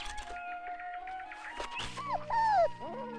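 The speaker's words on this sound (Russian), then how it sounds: "Ну что, хороший пес?" A shepherd dog whimpers up close in a series of high, wavering whines and short yips that rise to a louder drawn-out whine near the end.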